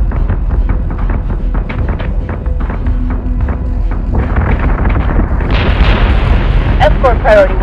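Warship batteries firing in Battlestar Galactica Deadlock, a rapid, steady pounding of heavy booming shots layered with rumbling explosions, while clipped voice callouts sound over the barrage.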